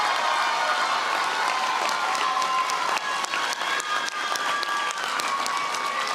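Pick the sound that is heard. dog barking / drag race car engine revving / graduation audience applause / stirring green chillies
graduation audience applause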